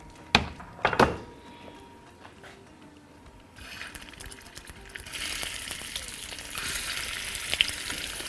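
Oil heating in a very hot wok before Persian meatballs go in, a few sharp knocks and clatters at first, then a hiss that builds into a steady crackling sizzle.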